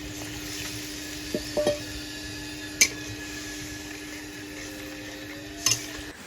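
Curry with hot water bubbling in a pan for a pointed gourd dish, a low continuous simmer with a steady hum, a few faint clinks and soft pops scattered over several seconds.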